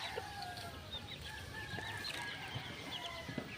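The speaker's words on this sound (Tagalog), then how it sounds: "Manok na tik-tik." Chickens cluck faintly amid a busy, noisy background, with scattered short calls and a distant crow-like note.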